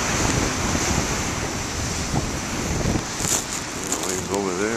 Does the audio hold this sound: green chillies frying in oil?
no